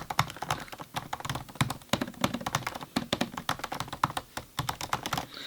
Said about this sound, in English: Sounds really high quality and very satisfying. I mean, just listen to the keys.